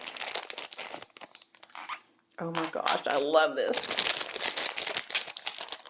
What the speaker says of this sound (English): Sorry for the crumpling of the bag.